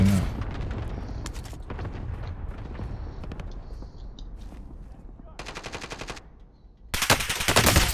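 Gunfire in the Call of Duty Warzone video game, with bursts of rapid automatic fire and louder volleys near the end, while players talk over the shooting.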